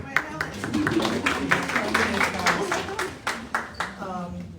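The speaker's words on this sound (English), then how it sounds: "so big round of applause for Helen." An audience at a homeownership expo breaks into a round of scattered clapping that carries on steadily, mixed with murmuring voices and talk.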